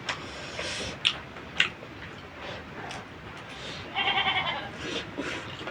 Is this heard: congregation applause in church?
no